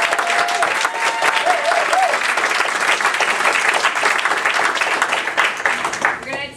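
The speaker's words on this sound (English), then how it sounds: "All right, a big round of applause." A breakout-session audience applauds steadily and loudly for the teen innovators, with the dense clapping continuing for about six seconds and some voices underneath.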